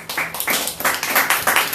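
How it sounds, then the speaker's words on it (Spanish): Loud, close applause from a church congregation during a sermon, fast irregular handclaps in bursts that swell and dip, with no talking over them. "Un aplauso para Él."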